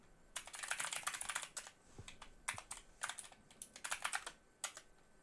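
Fingers type in quick irregular bursts on a computer keyboard, close and clicky, with short pauses between flurries and no talking.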